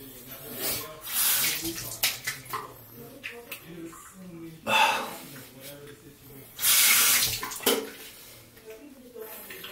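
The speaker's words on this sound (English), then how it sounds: "Just rinse out the face." Tap water runs and splashes into a sink while a face is rinsed after a wet shave, with bursts of louder splashing and brief speech heard between the splashes.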